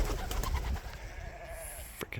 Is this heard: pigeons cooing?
yes